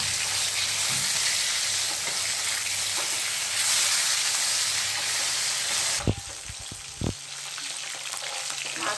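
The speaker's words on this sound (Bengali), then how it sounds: "একটা ভাজা হয়ে গেছে, আমি উল্টিয়ে দিচ্ছি।" Rui fish sizzles loudly in hot oil for several seconds, then the hiss drops as a few sharp utensil clacks sound while the fish is turned, with quieter frying continuing beneath.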